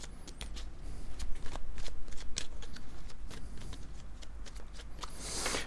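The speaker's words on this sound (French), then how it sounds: "on me demande de coupler chacune des cartes" Playing cards are cut and riffled close up in a continuous run of crisp flicking and snapping, ending in a brief burst of riffle.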